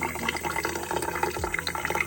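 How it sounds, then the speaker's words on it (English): Water poured from above onto a seal near a small hole at the top, a continuous close splashing and trickling with fluctuating gurgles and no talk. "I'm pouring water on that seal now."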